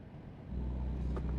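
In a driving video game, an engine drops to a lower gear with a rev-matched downshift, a low rumble that swells and holds, heard fairly quietly and with no talking.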